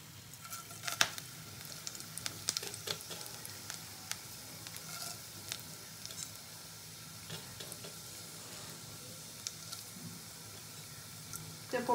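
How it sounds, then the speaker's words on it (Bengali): Cumin seeds sizzle in a little hot oil in a kadai, a steady faint crackle with scattered sharp pops, heard close with no talk. "তেল দিয়ে তেলের মধ্যে প্রথমে আমি জিরে ফোড়ন দেবো।"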